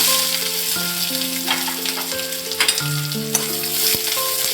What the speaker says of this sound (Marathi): कांदा सोनेरी होईपर्यंत परतून घेऊया